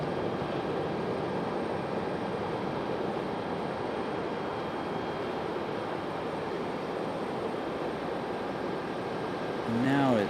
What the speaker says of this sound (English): So we got United out here at the end of the runway. 737.